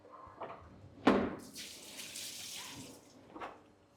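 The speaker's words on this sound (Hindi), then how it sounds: "फिर साफ पानी से स्प्रे करना" A Wagner Control 150 M airless sprayer sprays clean water. It starts with a sharp burst, then gives a steady, loud hiss, with a softer spurt near the end.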